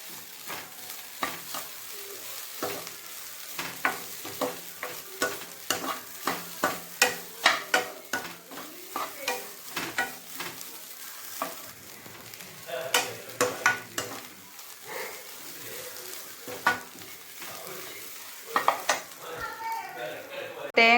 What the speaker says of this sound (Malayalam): നെയ്യിൽ നന്നായി വറുത്തെടുക്കുക.